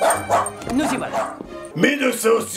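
A dog barks and yips in a scene from the film Le Fils du Mask, in loud repeated bursts heard under and between French speech.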